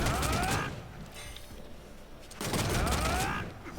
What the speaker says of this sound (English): the only meter burn version that you have to respect is the overhead on the machine gun